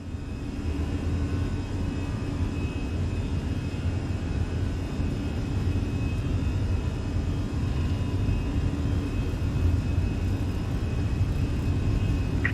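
Steady low rumble and whir of Fenix A320 jet engines running stable in Microsoft Flight Simulator, a constant droning hum held evenly throughout with no voices.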